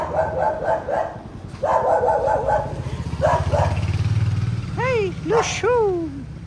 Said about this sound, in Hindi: क्योंकि कुत्ते मेरे पास को आ जाते हैं सारे के सारे, देखना।